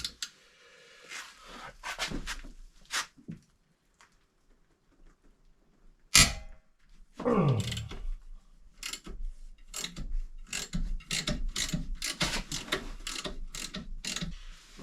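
Ratchet clicking in repeated bursts on rusty rear brake bolts of a 2016 Subaru Forester, with a sharp clank partway through and steady close ratcheting after it, no talk.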